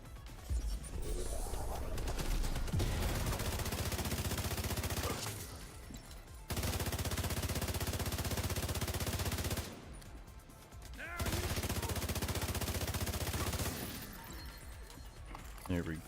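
Long sustained bursts of automatic gunfire in The Division 2, three heavy barrages separated by short lulls, with a player talking through the action.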